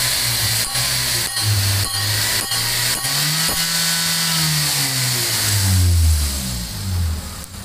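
Toyota Vios third generation engine fitted with a 4-1 header and muffler, no catalytic converter, revving hard with rising and falling pitch sweeps, loud and close, no talk.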